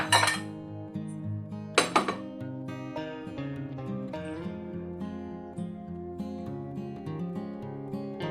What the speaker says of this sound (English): And now I'm going to plate it.